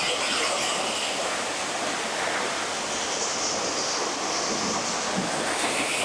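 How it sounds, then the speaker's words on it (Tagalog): Bridal Falls waterfall beside Kennon Road in Benguet, a constant dense roar of rushing water heard close up and loud with no pauses. "Finally, nakalapit na tayo dito sa Bridal Falls."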